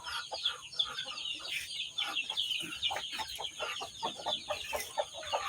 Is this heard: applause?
no